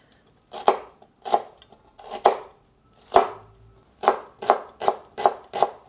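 A knife minces shallots on a cutting board for vegetable dumpling filling, nine sharp, close chops in an uneven rhythm with short pauses between strokes.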